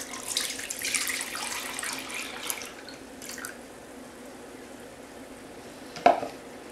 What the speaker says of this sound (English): And now we can add the rest of our milk,